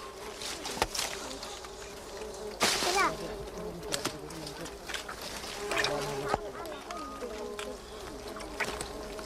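Stingless bees buzz up close in a busy, droning hum around a honey-filled dead log, with scattered rustles and knocks around them.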